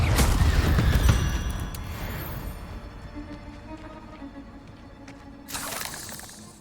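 Confringo fire spell in Hogwarts Legacy, a loud crackling blast that fades into a long hissing, sizzling tail, then a second burst near the end.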